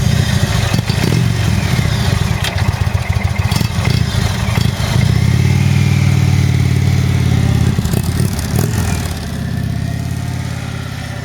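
An Indian motorcycle engine starts and runs loudly nearby, rumbling and clattering with uneven throttle blips before settling to a lower steady drone toward the end as it rides off.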